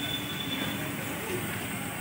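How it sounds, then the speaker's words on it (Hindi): A suburban passenger train running from Falaknuma to Lingampally pulls out of the station, with a steady rumble of wheels and carriages at moderate distance and a faint high squeal above it. "ये गाड़ी निकल रही है, आप लोग देख सकते हैं ये गाड़ी जा रही है।"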